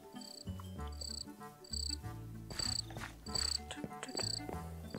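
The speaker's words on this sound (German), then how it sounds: "Boah, diese Grillen!" Crickets chirp in the video game Life in the Woods, a loud, steady chorus of rhythmic pulsed trills repeating in even bursts, close and continuous with no speech.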